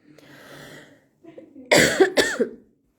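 A couple of harsh, close coughs in quick succession, preceded by quieter breathy throat sounds, from a cough brought on by dust in Shymkent.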